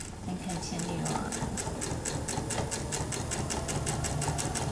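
A sewing machine stitches around a charm pack fabric coaster with a fast, even mechanical rattle of needle strokes, close and steady, with a voice talking over it.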